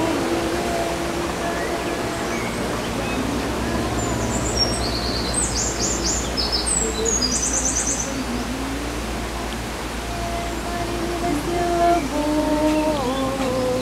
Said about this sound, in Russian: А птицы-то как поют красиво.